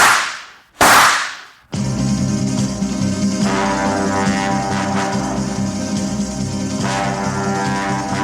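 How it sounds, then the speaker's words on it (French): Two sharp gunshots go off nearby in quick succession, each a loud cracking burst, followed by a dense, sustained noisy wash with no speech. "Je t'assure, Blanche, 2 coups de feu, tirés tout près d'ici"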